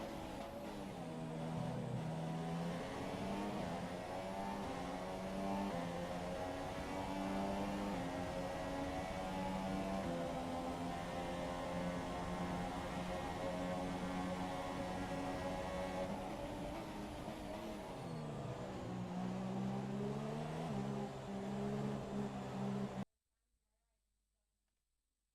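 Formula 1 cars in the F1 2017 game roar continuously at high revs, the engine pitch rising and falling through gear changes for over twenty seconds before cutting abruptly to silence.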